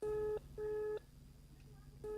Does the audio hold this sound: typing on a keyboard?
no